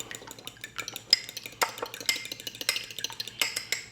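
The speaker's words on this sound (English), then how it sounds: "with a fork, mix the egg and the butter and the salt" A fork whisks egg, butter and salt together in a bowl for a low-carb keto English muffin, giving quick close scraping and clinking strokes in an uneven, continuous rhythm.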